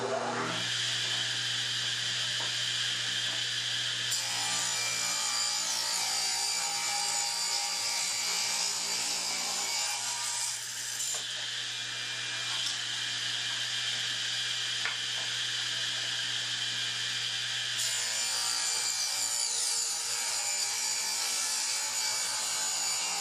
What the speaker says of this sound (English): now we can rip it down to our final width with our reference face against the fence